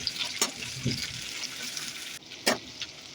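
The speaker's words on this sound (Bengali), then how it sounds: "আলুগুলো একটু ভাজা ভাজা হয়ে গেছে, তার মধ্যে দিয়ে দিলাম পেঁয়াজ কুচি।" Steady sizzling of potatoes and chopped onions frying in oil, with a few sharp clicks and stirring scrapes over the crackle.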